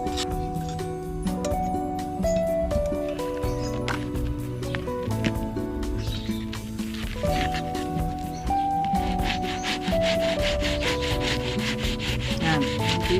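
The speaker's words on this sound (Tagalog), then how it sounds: "So manual lang ang liha natin" Old scissors, about 50-year-old shears, rubbed by hand with sandpaper in steady back-and-forth strokes, a close continuous scratchy rasp with musical tones running underneath throughout.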